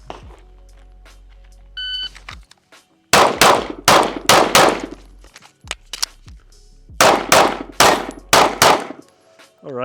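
Rapid pistol shots from a Rost Martin RM1S at steel targets, two bursts of about five quick, loud cracks each split by a brief reload pause, with faint metallic pings from struck steel early on.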